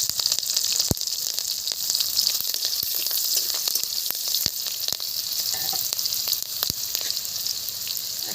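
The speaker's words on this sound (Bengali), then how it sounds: "অল্প করে একটু কালো জিরে ফোড়ন দিয়ে দিচ্ছি" Nigella seeds, bay leaves and green chillies sizzle in hot oil for a fish curry tempering, giving a constant, bright crackling hiss with occasional sharper pops and utensil taps, close and continuous with no talking.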